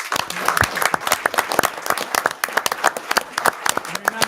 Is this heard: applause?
yes